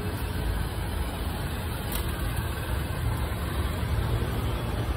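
New motorbike engine running on a test drive, a steady close rumble that holds level throughout with broadband road and wind noise and no talking.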